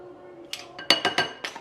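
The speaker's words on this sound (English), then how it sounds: "So I'm going to be adding half a teaspoon more of this sugar." Metal teaspoon clinking against a dish while adding sugar to an Oreo cheesecake mixture, several quick, bright taps close by after a soft lead-in.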